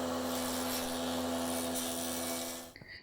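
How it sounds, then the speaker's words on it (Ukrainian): A sanding machine calibrates spruce rails for a giant Nieuport 27 model, giving a steady, loud motor whine with a rasping grind that runs continuously, then cuts off abruptly near the end, leaving a brief faint clatter. "Після чорнової обробки відкалібрував рейки на такому шліфувальному агрегаті."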